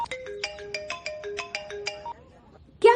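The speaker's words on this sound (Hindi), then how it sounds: "भैया का फोन आ रहा है।" A mobile phone plays a bright melodic ringtone with a repeating pattern of short electronic notes for about two seconds, clear and close. A brief louder burst follows at the end.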